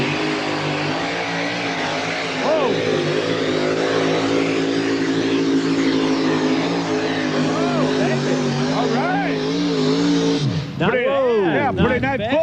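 A two-wheel-drive truck with a supercharged iron-block Chevy engine roars steadily at a truck pull, loud sustained engine drone with rising revs under excited commentary from announcers talking over it.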